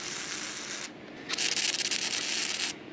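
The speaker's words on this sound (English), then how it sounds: "Now we're going to go ahead and just tack weld the frame that's going to keep the forge piece" Tack welding a steel frame meant to hold a fire brick forge in place, giving a steady broadband hiss and crackle that cuts out briefly and then resumes louder and close, with no talking.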